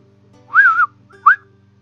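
A person imitates a wolf whistle with two rising-falling whistled notes, the first longer and the second short, heard clearly alone over a faint steady hum.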